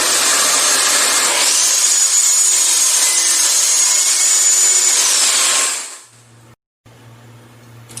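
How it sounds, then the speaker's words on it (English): A power saw cuts steadily through a wooden board used to make a push block, loud and close for about six seconds with a whining high pitch, then winds down and stops. "I need 5 inches, so I'll go ahead and cut this off"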